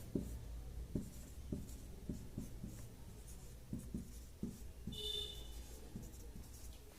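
Pen or chalk strokes writing out a differential equation, faint and close, with short scratchy taps and glides in an irregular rhythm over a low room hum.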